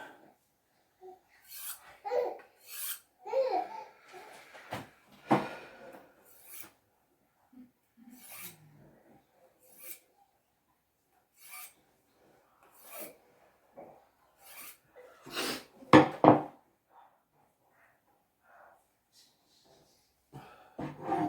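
Steel rasping along a knife blade used for cutting lamb, a run of short scraping strokes in irregular bursts, loud and close, with a brief murmured voice now and then between them.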